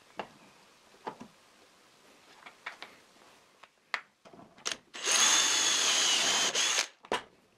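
Scattered clicks and taps, then a loud continuous whir of a power drill boring into a wooden dowel for about two seconds before stopping, followed by a final knock.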